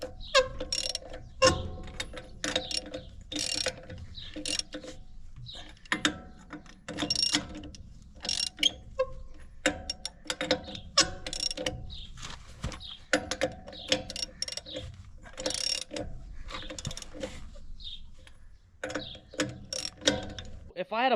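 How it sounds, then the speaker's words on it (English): A hand ratchet tightens the lug nuts on a trailer wheel, giving quick clicking bursts of the pawl with short pauses between strokes, close and clear, while a voice speaks faintly now and then. "Now, tighten these lug nuts as tight as you can get them."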